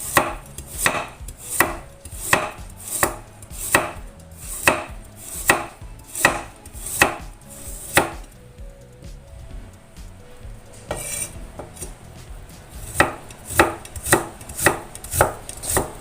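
Knife slicing peeled carrots thinly into long strips on a cutting board for a mixed vegetable dish, a steady run of crisp, loud chops with a brief pause in the middle before the chopping resumes.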